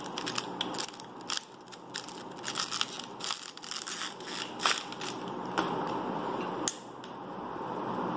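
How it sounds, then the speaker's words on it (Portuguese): A soft, pliable 500 ml Cristal PET plastic bottle is crushed by hand, giving close, loud crackling crunches and crinkles in irregular bursts that run on without pause. "mas eu acho que tá saindo de linha, tá? Que ela é bem molinha mesmo, mega maleável, então para você amassar ela fica bem compacta."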